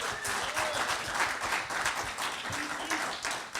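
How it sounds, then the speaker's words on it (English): A live audience in Mountain View breaks into steady, dense applause and clapping to welcome a security chief onto the stage, sustained and fairly loud throughout with a few voices mixed in. "Let's hear it from TC"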